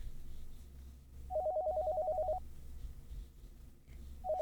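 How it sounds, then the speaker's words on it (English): A telephone rings in an anime episode: a steady electronic trill of rapid pulses lasting about a second, then a fresh burst starting near the end, over a quiet low background hum. "Phone ringing."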